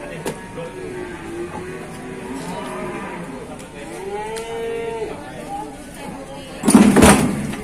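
Cattle low repeatedly at a cow market, several drawn-out moos close by, followed by a sudden loud clatter like a gate or door near the end, with faint background noise throughout.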